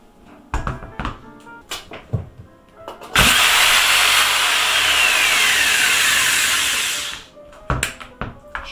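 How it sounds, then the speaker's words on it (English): A jigsaw with its trigger locked on roars continuously at full speed for about four seconds, loud and close, before winding down, with scattered knocks and handling noises before and after. "And to use that, I got a jigsaw."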